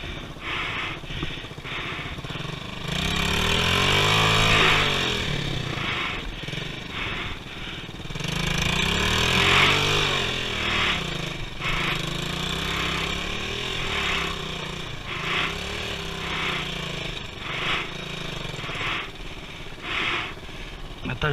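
Motorcycle engine running steadily on the BR-319 road through the Amazon, a continuous close drone that swells twice, with people talking over it.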